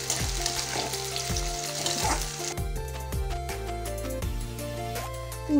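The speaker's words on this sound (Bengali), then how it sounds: "পেঁয়াজটা ভালো করে ভেজে নেব।" Three jumbo onions frying in a pan with bay leaves, a close sizzle broken by repeated rhythmic knocks of a spatula, with a steady tonal background hum and music-like tones toward the end; no one speaks.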